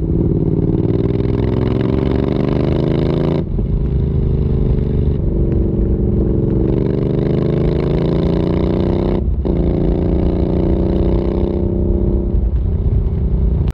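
Harley-Davidson X350 parallel-twin with a 270-degree crank, derived from the Yamaha XJ6, running loud and close with a rough, throbbing exhaust note, rising and falling through several revs with brief cuts between pulls.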